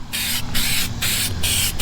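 Steady bursts of aerosol-style spray hissing as a thick peelable coating goes onto a Dodge Challenger Hellcat being prepped for racing, three long pulses separated by brief pauses, close and loud with no talking.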